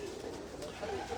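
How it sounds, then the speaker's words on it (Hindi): Rooftop pigeons in a loft coo softly in short, repeated murmurs, close and gentle, with a voice talking over them. "मेरे घर के कबूतर"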